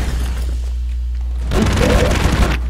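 Video game explosions in Broforce: a steady rumbling bed gives way to a loud, dense burst of booming blasts and crackling debris lasting about a second before easing off.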